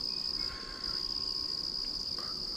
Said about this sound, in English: You couldn't hear nothing but crickets and bullfrogs.